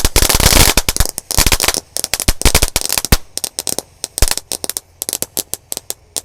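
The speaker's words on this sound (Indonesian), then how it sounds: "Sangat seru sekali ini menyalakan mercon malam hari" Firecrackers set off at night during Ramadan 2023: a dense, loud burst of crackling bangs gives way to a long run of separate sharp pops and reports at irregular intervals.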